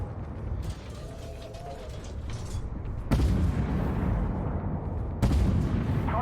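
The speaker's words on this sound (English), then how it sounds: "Fire a shot and destroyed him." A tank's main gun fires in the armored combat game Armored Warfare, a deep booming shot that arrives as two heavy blasts over a low rumbling engine and battlefield background, fairly close and loud.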